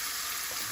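Mustard seeds and urad dal frying in hot coconut oil give a brief, faint, even sizzle with no voices.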